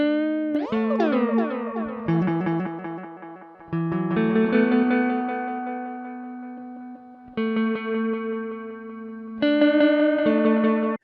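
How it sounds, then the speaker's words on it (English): Synth or guitar notes play through a tape delay plugin effect, each phrase trailing repeating echoes that smear and fade between bursts of new notes. "It can give you nice sounding tape delays"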